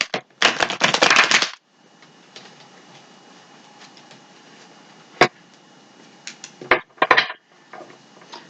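A quick riffle of cards being shuffled, followed by quieter handling and a few sharp taps and shuffles of a deck, close by.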